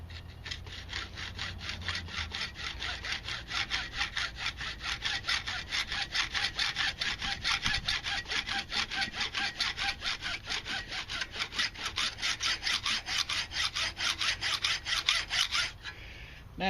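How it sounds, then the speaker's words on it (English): A hacksaw cuts through a part clamped in a vise for a DIY cell phone tripod mount, with steady rapid back-and-forth rasping strokes that stay close and loud for over fifteen seconds before stopping. "Now you can cut the whole thing with a hacksaw if that's all you have."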